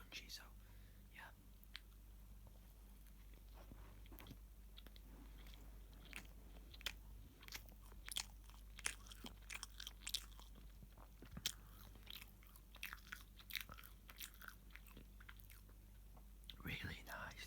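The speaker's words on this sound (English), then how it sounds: "the lettuce should be nice and crunchy" Close, crunchy bites and chewing of a lettuce-filled burger, with wet crunches repeating irregularly and faint whispery breaths between.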